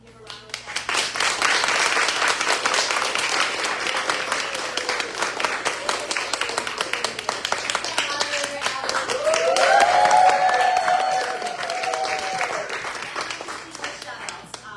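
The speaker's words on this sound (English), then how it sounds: "We can give a round of applause." An audience applauds the panelists at the close of a community event, a steady wash of clapping that swells again toward the end while a voice speaks over it.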